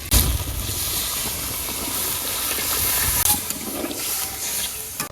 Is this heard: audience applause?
no